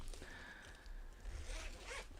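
A zipper on a case is pulled open in a couple of quick, close rasping strokes, quiet against a faint background hum.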